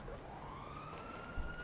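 A police car siren in the video game GTA 5 wails in a rising, sweeping tone over steady road rumble, fairly close, with a brief thump near the end and no talking.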